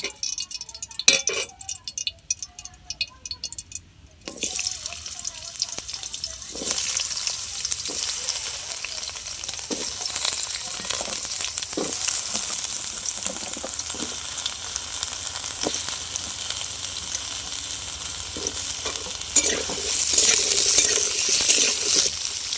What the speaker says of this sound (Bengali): এবার বাকি সবজিগুলো একই রকম করে আমি ভেজে নেব।